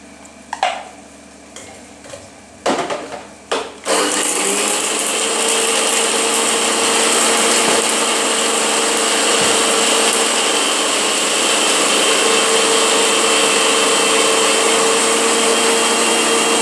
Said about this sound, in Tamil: இப்போ ஒரு நிமிஷம் தேங்காய் அரைச்சி அதில் போட்டுறேன்